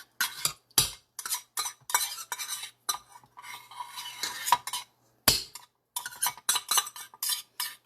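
Banana bar batter scraped out of a cup with a utensil into a baking pan, a run of close, irregular scrapes and taps that come in short bursts with brief pauses between them.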